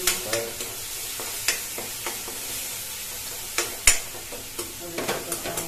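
Red chili and turmeric spices are stirred in a pan over a gas flame, with repeated close scraping strokes at an uneven rhythm over a low sizzle and no voices.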